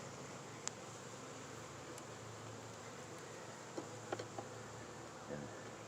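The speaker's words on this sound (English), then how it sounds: "plenty of bees." Faint steady drone of honey bees buzzing around an open hive during colony splitting, a continuous low hum with a few soft clicks and knocks scattered through it.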